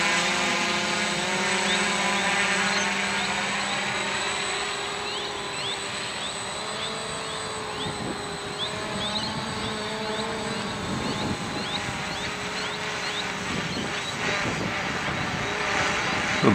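A DJI-propped HK X650F hexacopter drone hovers steadily with a constant whining buzz of spinning 10x3.8 propellers, loud and close throughout, with faint wind noise underneath.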